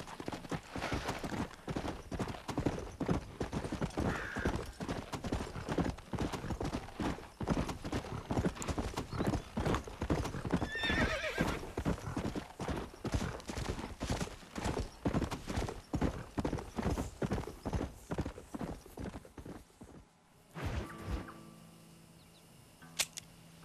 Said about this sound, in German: Und jetzt reiten wir ganz klassisch in den Sonnenuntergang.